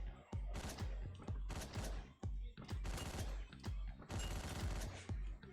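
Rapid bursts of gunfire from the top-down action game Hotline Miami, several loud volleys of shots and automatic fire in quick succession with brief gaps between them, filling the clip with no talking.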